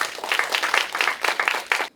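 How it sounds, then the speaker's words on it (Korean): An audience at a Korean community environmental lecture applauds to welcome a speaker: dense, lively clapping with bursts of claps, sustained throughout and ending abruptly. "팀장님을 뜨거운 박수로 소개하도록 하겠습니다"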